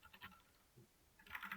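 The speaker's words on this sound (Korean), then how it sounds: "여기 지금 키보드 누르는 거 들리시죠?" Computer keyboard keys pressed during a Java programming lesson, a few soft scattered clicks at first, then a denser burst of brighter key taps toward the end, faint and close.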